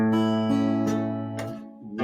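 Short fingerpicked pattern on an acoustic guitar, a few clear plucked notes ringing over a sustained bass note, close and alone without talk.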